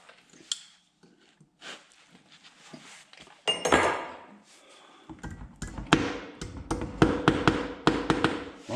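A part is driven into the front wheel hub of a John Deere A tractor with a string of sharp metallic taps and knocks. The blows are sparse at first, then come quicker and louder, close by and with no talking.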